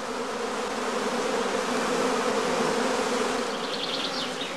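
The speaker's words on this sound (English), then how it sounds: "The bees are now restless and run back and forth in the beeways" Honeybees hum restlessly inside a straw skep just before swarming, a continuous loud buzzing drone with a few higher whines near the end.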